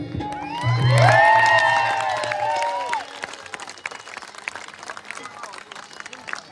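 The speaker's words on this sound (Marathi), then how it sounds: "एकदा आपणच हात वरती करून टाळे वाजवूया" An audience at a Shambhu Rajyabhishek stage show claps and cheers, with loud whoops and shouting voices over the first few seconds before the clapping thins into scattered, fading claps.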